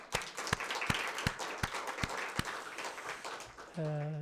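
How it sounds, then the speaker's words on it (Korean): A church congregation claps in thanks during a Sunday worship service, a few loud, irregular claps over a steady patter of applause, ending in a brief sustained tone. "감사의 박수는 한번 치고."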